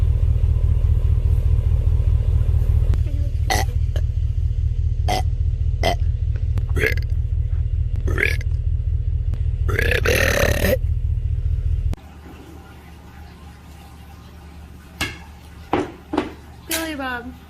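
Loud, long burps from a woman, several in a row and some of them drawn out, over a steady low engine-like rumble that drops away about two-thirds of the way through. Quieter short sounds follow after that.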